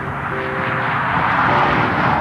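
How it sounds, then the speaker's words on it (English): A Jaguar XJ12's V12 engine roars under acceleration, a dense, continuous, loud drone close by with no voices over it. "The engine doesn't hum like it did in the old car. It roars and snarls and growls like it's angry."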